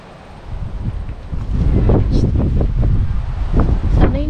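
Wind blusters against the microphone in heavy, rumbling gusts that build after a quieter start, with some rustling.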